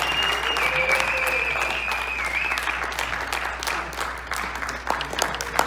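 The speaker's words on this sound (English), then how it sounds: "Could we give all of them one last round of applause?" Loud, sustained applause from an audience for the contestants of a male pageant show, many hands clapping densely over a held musical tone, with a few sharp individual claps near the end.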